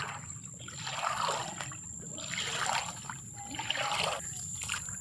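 Feet wade through flood water covering a path, producing slow repeated swishing and trickling surges at a rhythm of steps, moderately near, with a thin steady high whine in the background.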